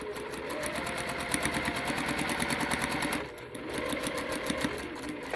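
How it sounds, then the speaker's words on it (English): A sewing machine runs steadily, stitching down a quilt block seam with a fast, even mechanical chatter, pausing briefly once and then resuming at the same pace. "And then you're just going to stitch down this line."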